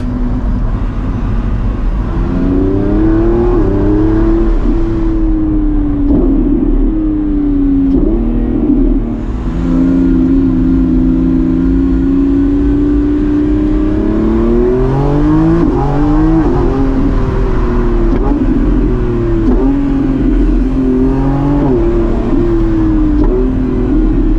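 A Lamborghini Revuelto's 6.5-liter V12 hums and rises in pitch as it revs and accelerates, heard from inside, loud and steady with several climbs and drops in tone.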